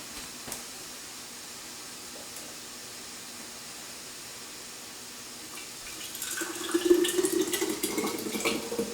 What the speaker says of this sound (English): we can just pour it in right from the pan here